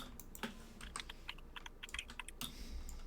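Quick taps on a computer keyboard as a short word is typed into a search box. The keystrokes are faint, close and slightly irregular, in a few short bursts, with no talking.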